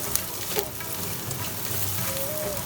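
Sliced onions and chillies fry in an oil-filled pan for jeera rice, with a dense, even sizzle and a few soft stirring clicks, all close up and without voices.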